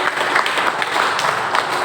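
A church congregation at a Sunday worship service claps together in a brief, loud, fairly even burst of applause.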